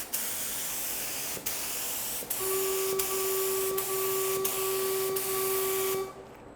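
Compressed air is blown across wet paint in a fingerprint paint-pouring technique, a loud continuous spraying hiss with a steady whistling tone partway through, briefly interrupted by small clicks before it cuts off near the end.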